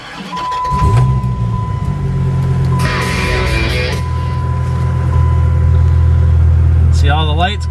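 Salvage repairable 2008 Dodge Viper SRT-10 starts up close by: a short crank catches into a loud, deep idle rumble that holds steady, with a faint warning chime before it and brief mechanical whirs during the idle.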